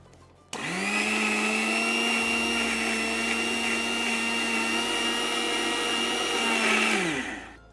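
An electric grinder whirs steadily as it blends powder with added oil into a thick paste for a chocolate treat, a loud continuous motor drone that starts abruptly and winds down near the end, with no voices.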